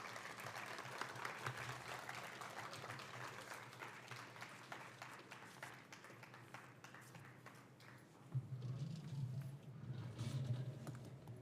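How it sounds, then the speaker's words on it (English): Audience at the Bharatheeyatha 2025 event applauding to welcome a speaker, a sustained crowd of clapping hands at moderate level that continues steadily, with a brief louder thump and a low murmur near the end. "With a thunderous round of applause, please welcome Shri Sridhar Talapaka Garu."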